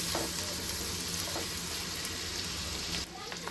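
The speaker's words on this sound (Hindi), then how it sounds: "इसी के अंदर हम हल्की सी प्याज को भी शैलो फ्राई कर लेंगे" Onion shallow frying in oil, a dense steady crackle and sizzle that drops slightly near the end, close and unbroken, with no clear speech.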